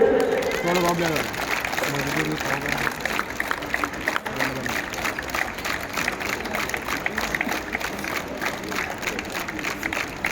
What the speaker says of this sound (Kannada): ಈಗ ನಮ್ಮ ಮಕ್ಕಳು ಇನ್ನೂ ಜೋರಾಗಿ ಚಪ್ಪಾಳೆ ತಟ್ಟಬೇಕು